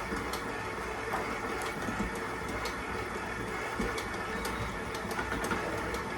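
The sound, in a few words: stand mixer beating panettone dough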